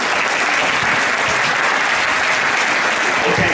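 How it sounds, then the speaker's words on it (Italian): Steady, dense applause from an audience at a charity music concert, loud and continuous throughout with no pauses. "Grazie, un applauso!"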